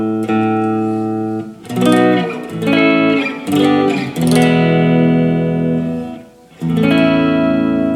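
Gibson SG Standard electric guitar played with a mostly clean tone: sustained chords and single ringing notes, a few quick strums, with short pauses between phrases.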